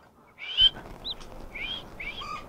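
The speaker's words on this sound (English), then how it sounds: "This one's got some peeping in it." High, thin peeps from a chick still inside a hatching egg, a few short chirps close by and fairly faint over a quiet background.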